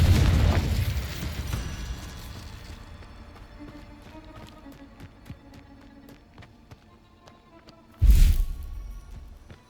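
Spell explosions and bursts from combat in the Hogwarts Legacy video game, a loud booming blast at the start, a run of crackling hits and pops, then another heavy boom near the end, with no talking.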